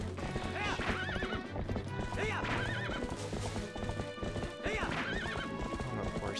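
A horse in the Wii U version of Zelda: Twilight Princess gallops with rapid, rhythmic hoofbeats and lets out repeated sharp whinnies, over a background of game music, loud and close throughout.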